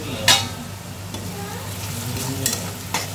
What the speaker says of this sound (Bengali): নুন দিয়ে ভালো করে আর কি ভাজা করে নেব।